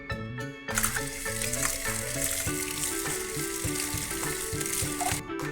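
Steady hiss of potatoes with jackfruit frying in a pan, continuous and fairly close, with melodic background music playing throughout.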